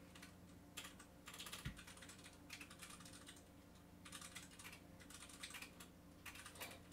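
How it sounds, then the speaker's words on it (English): Computer keyboard typing in the background of a gaming livestream, coming in quiet bursts of rapid clicking separated by short pauses, faint and steady throughout. "can you hear Pepe typing in the background?"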